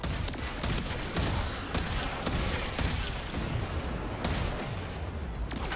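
Weapon fire in a Warframe Railjack space battle, dense rapid bursts of gunfire and booming blasts packed loudly together without a break.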